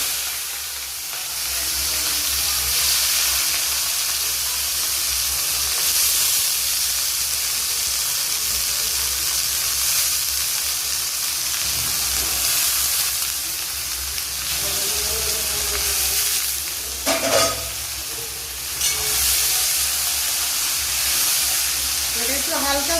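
Chow mein ingredients frying together in hot oil produce a continuous broad sizzling hiss throughout, with occasional stirring clatter and a brief louder burst near the end, under intermittent quiet talk.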